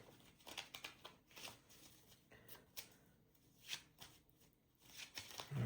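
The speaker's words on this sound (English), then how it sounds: "Let's shuffle the deck." A deck of cards being riffled and bridged during a solo tabletop game, soft papery ripples and flutters repeating in quick bursts, close and quiet with no talk.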